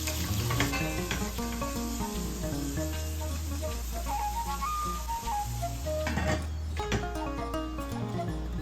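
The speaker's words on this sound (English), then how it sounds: "add 3 medium onion that's roughly chopped. Saute till soft and translucent." Roughly chopped onions sauté in a pan for butter chicken, giving a steady sizzle throughout while music plays over it.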